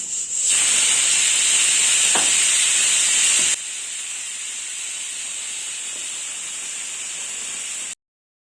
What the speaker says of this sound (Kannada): ಈಗ ಲಿಡ್ನ ಕ್ಲೋಸ್ ಮಾಡಿ 2 ವಿಷಲ್ ಕೂಗಿಸ್ಕೊಳ್ಳೋಣ.